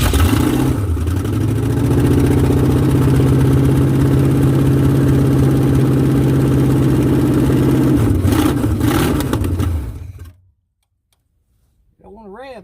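A 1969 Ford Mustang engine, left sitting in the rain for 21 years, idles roughly with a loud, close, uneven ticking rumble for about ten seconds, then cuts out to silence before a brief voice.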